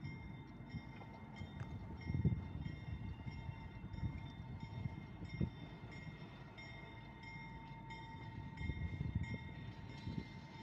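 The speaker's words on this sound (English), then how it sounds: "Kevin, this is my favorite engine, ex-Union Railroad" An ex-Union Railroad locomotive hauling a freight train with gondola cars rumbles past at a moderate distance, a steady low rolling drone with faint clanks and a steady high squeal.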